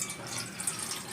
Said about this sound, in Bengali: টিফিন কৌটোর মধ্যে ঢেলে দিলাম